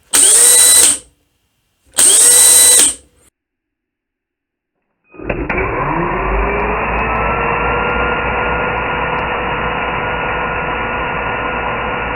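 An Einhell TP-CD 18/120 cordless impact driver gives two short bursts of its trigger-pressed spin, pauses, then runs again in a long steady loud whine that holds without stopping.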